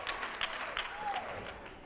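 A keynote audience at a women's leadership summit breaks into brief, moderately distant applause and cheering, a short burst of clapping from a crowd.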